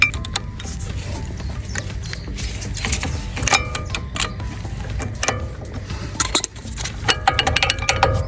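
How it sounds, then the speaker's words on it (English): Metallic scraping, clicks and knocks as a flat-head screwdriver levers the brake caliper pistons back on a BMW 1 Series during a brake pad change, irregular and close up over a steady low hum. "you may have to push the pistons back, so you could get a flat head in this instance"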